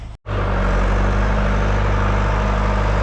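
A tractor engine idles steadily close by, a constant low rumble after a brief silent gap at the start, with no talk.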